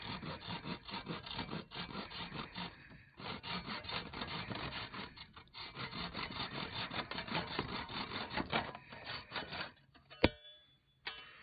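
A maple root crook is trimmed by hand with a cutting tool, rasping and scraping wood in a steady, close rhythm of repeated strokes, ending with a sharp knock and a short pause.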